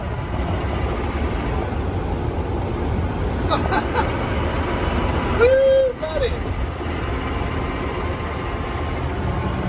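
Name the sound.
2008 Range Rover Sport supercharged engine while driving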